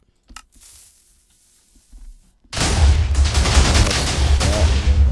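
A Minecraft TNT stacker cannon fires repeatedly, heard after a quiet start as a sudden, loud, continuous roar of overlapping explosions.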